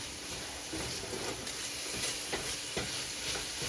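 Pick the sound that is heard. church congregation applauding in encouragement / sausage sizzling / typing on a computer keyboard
sausage sizzling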